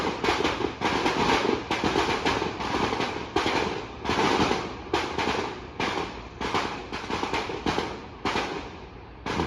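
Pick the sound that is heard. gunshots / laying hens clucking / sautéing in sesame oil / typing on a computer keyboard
gunshots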